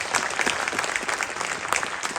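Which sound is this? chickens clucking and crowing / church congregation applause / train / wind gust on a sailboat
church congregation applause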